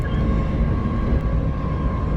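A train passing in the opposite direction on the line near Doncaster, heard as a steady, loud rumbling roar from on board with a faint tonal hum throughout.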